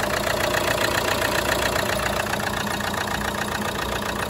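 Car engine idling steadily after an oil check, the motor damp with a suspected head gasket leak; a continuous, close, even rumble holds at constant loudness throughout with no speech.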